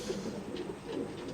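Pigeons cooing softly in a loft setup built from joined plastic buckets, a steady low murmur of coos continuing throughout with no talking.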